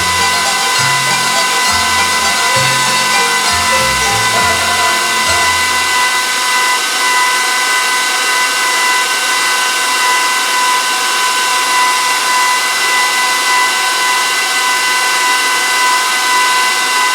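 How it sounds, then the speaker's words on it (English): Small electric pasta machine motor whirring steadily as its cutting wheel slices rolled dough sheets into fettuccine, a continuous close hum with some lower rumbling rattles in the first few seconds, no voices. "I normally roll all the flats out first and then put the cutting wheel on"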